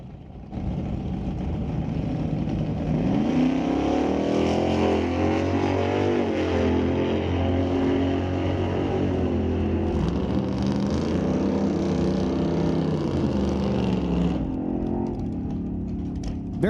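A drag race at Mission Raceway Park between a 1940 Ford and Barry Patterson's 1965 Dodge Coronet with a 498 Dodge engine, heard as a sustained, steady engine roar that rises in pitch and holds, then fades slightly near the end.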